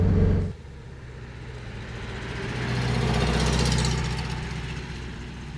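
A 1963 Porsche 356 B T6 Cabrio engine, tuned to about 160 hp, runs steadily near the microphone, a close low rumbling idle that swells slightly midway with no talking over it.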